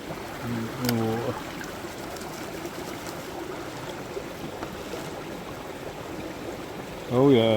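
Water runs steadily through a gold sluice outdoors, a constant wash of flow with a couple of brief voices breaking in near the start and end.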